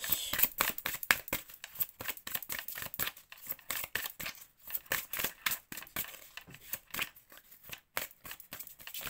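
Oracle cards being shuffled and drawn by hand, a rapid run of crisp riffling card flicks close by, with short pauses between bursts and no voices over them.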